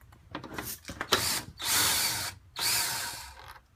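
A power drill whirs in short bursts while backing out headlight bolts on a car, with two longer sustained runs near the end, close and loud with faint clicks between.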